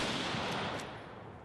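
A gun fires in Fallout 4, a short loud blast with a rough, dense crack that decays over about a second, with no voices.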